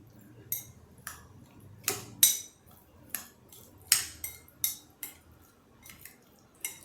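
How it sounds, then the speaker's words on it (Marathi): A utensil mixing potato koshimbir, a tempered potato salad with chillies, clinks and scrapes against the bowl in a steady run of about a dozen sharp ticks, each close and fairly loud, with no talk. "आता ही आपण कोशिंबीर कालवून घेऊ"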